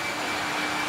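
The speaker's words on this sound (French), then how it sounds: "il faut juste des sèche-cheveux, mais super puissants" Very powerful hair dryers blowing during a stage magic levitation act, a steady, fairly loud rushing airflow roar that holds constant for just under a second.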